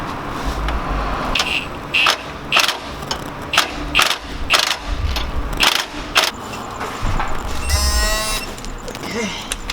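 An 18mm socket on a ratchet tightens the trackbar bolt of a Lexus GX470, with a 21mm wrench holding the back nut. Bursts of sharp metallic clicking come in uneven groups, close and fairly loud, with a longer rapid ratcheting run near the end.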